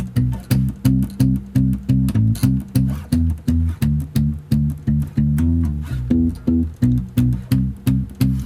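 Bass guitar played with palm muting, giving a muffled, thumpy tone like an old double bass, in a steady repeating groove of short damped notes, loud and alone.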